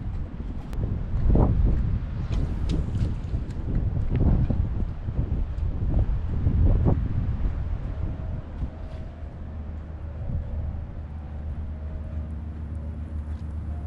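Wind buffeting the microphone on open backwater while kayaking, a low rumbling gusty roar that swells and eases, with a faint steady hum in the later part.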